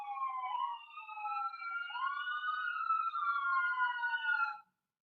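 A police siren wails continuously in rising and falling sweeps, loud and clear with nothing else under it, then cuts off abruptly.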